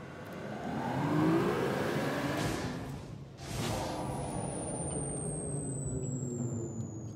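A spaceship's FTL drive spools up in Starbound, giving a rising engine-like whoosh that swells, dips briefly and then settles into a steady hum while a thin high whine slides downward.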